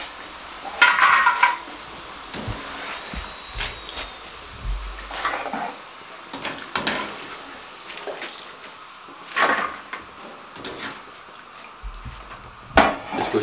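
Sliced potato chips being lifted out of hot frying oil, with intermittent sizzling bursts, clattering stirs and scraping of a utensil, close and fairly quiet with gaps between the sounds.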